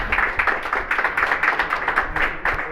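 An audience applauds the artist Rubén Zárate at an art exhibition, giving a brief, moderately loud burst of many hands clapping in quick, dense, uneven rhythm with no voices over it.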